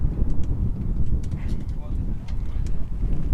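Wind gusts buffet the microphone at an outdoor F40 cricket match in Tallinn, a loud low rumbling roar that runs steadily through the whole clip.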